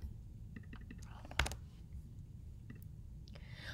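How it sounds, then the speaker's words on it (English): Faint, irregular clicks of typing on a computer keyboard, a few scattered keystrokes over a quiet background hum. "Select all the text and type the word the."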